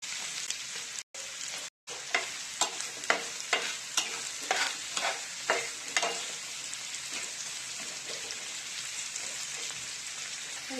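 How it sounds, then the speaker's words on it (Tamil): Onions and green chilies fry in a pan for a brinjal gravy, a steady crackling sizzle broken by a regular run of sharp spatula scrapes and taps that thin out partway through, with two brief dropouts near the start. "எல்லாமே அடுத்தடுத்து சேர்த்து கிளறி விட்டுறலாம். இப்ப நம்ம பச்சை மிளகா சேர்த்துக்கலாம்."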